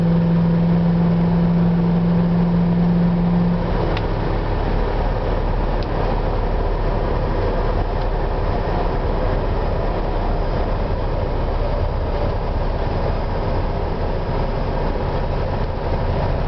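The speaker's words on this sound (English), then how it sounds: "You definitely hear the 4-barrel open up." Car with a 4-barrel carburetor and a new fuel pump, cruising around 40 mph on the road, a steady loud engine and road drone that holds without a break.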